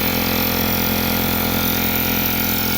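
A cheap air compressor runs just after its tank is bled down, giving a loud, steady motor and pump drone with a constant buzz that holds at an even level throughout, with no talking.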